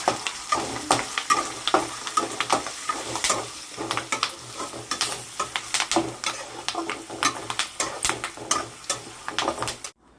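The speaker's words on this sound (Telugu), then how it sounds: "పోపు పెట్టేసుకున్నాక రైస్ వేసుకొని పులిహోరని కలిపేసుకున్నాను" Cooked rice is stirred into a hot tempering in a pan to make tamarind rice pulihora, with continuous scraping and clinking strokes of a spoon against the pan over a light sizzle, close and steady for about ten seconds.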